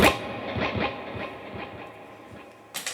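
Clean electric guitar with a dotted eighth and quarter note dual delay plus reverb on an I Surrender lead part; repeating echoes smear into a washy, continuous tail at moderate level, with a fresh strum near the end.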